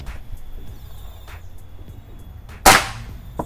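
A single sharp, loud crack from a side-lever PCP air rifle, a Bocap Black Army Red Laminate, fired outdoors. It is close, with a short decay over a steady background of insect and bird noise.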